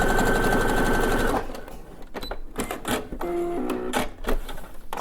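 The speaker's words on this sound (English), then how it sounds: "I'm going to take that to the sewing machine, and I'm just going to stitch those pleats down so they stay where I put them" A sewing machine runs fast and steadily while it stitches down the pleats of a fabric face mask, then stops, followed by clicks, handling noises and a brief mechanical whir.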